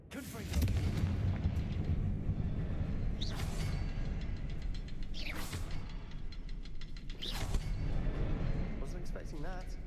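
Repeated booming spell blasts from the Confringo fire spell in the video game Hogwarts Legacy, three loud bursts with crackling tails over a dense rumbling game soundtrack.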